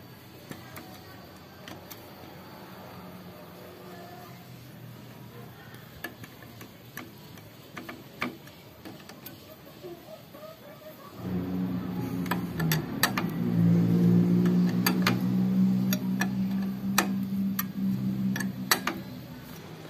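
Clutch bolts being tightened on a Suzuki Satria FU motorcycle fitted with a TDR clutch spring and plates: sparse sharp ticking clicks, then a louder steady droning hum joins halfway through, with clicks continuing over it.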